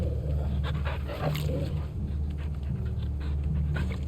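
A dog pants steadily in the video game Final Fantasy 16, with quick soft breaths and faint whimpers over a low, constant game ambience.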